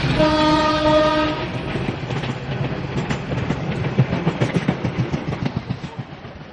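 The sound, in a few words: commuter train departing station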